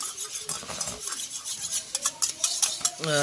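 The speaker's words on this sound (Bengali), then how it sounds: "তো কাঁচা দুধের মধ্যে এই যে ফুড কালার, তো আমরা এখন ফুড কালারটা গুলে নিলাম।" A spoon stirs food colouring into raw milk in a bowl while egg biryani is being made, giving close, quick clinks and scrapes in an uneven rhythm with no talking.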